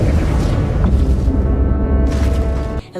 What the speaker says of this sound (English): Electromagnetic pulse. Basically fried the systems.